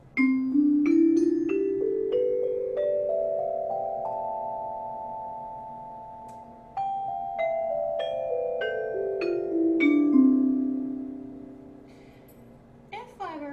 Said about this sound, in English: And the alto metallophone is made out of metal, but it has all of these bars.